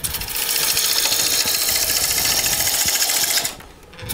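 A wood lathe turns a wooden lighthouse as a tool follows the rest to shape a slope, giving a loud, steady scraping whir that holds for about three and a half seconds before dropping away.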